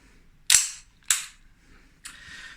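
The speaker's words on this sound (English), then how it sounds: "empty mag in, slide locks back." Army Armaments R30 airsoft pistol, a Wilson Combat 1911 replica, snaps three times with sharp, close, loud cracks, two evenly spaced and a softer, longer one last.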